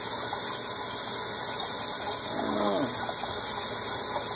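A pump runs steadily with a constant hum and hiss while water fills a pipe, and a short rising gurgle of water appears partway through. No one speaks.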